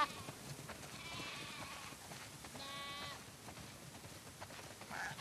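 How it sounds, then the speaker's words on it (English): Sheep bleat in The Last of Us Part II video game, several calls at a moderate distance over a quiet outdoor ambience, one long bleat followed by another sharper one. "Wow, that's a lot of sheep."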